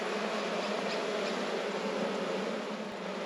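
Bees hum steadily at an unsettled rescue hive, a close, continuous insect drone with no voices over it.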